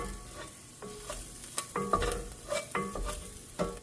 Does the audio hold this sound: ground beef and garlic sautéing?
yes